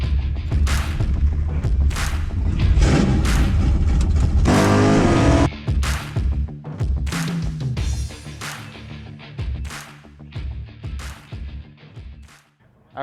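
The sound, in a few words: Stock Eliminator drag racing car, 1969 Camaro convertible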